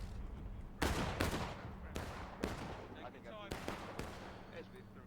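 Musket volleys in the War of Rights Civil War game, several sharp, loud cracks with ringing tails spread across the clip, some close and some overlapping, with faint battle noise between them.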